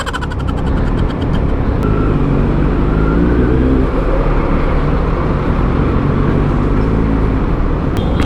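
Steady road traffic noise from a ride on a 2022 Kawasaki Z900 in Makati, a constant loud rumble of engines and wind rushing past the bike, with no talk over it.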